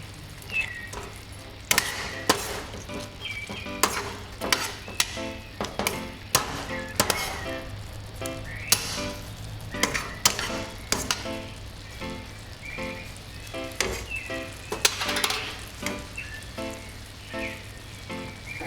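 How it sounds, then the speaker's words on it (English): Fried spam stew simmers on low heat in a pot and is stirred with a cooking spoon, giving a soft bubbling sizzle with irregular clinks and scrapes of the spoon against the pot. "The stove's gauge is on low, simmering, allow. After a minute, between 2 minutes, use a cooking spoon, stir it."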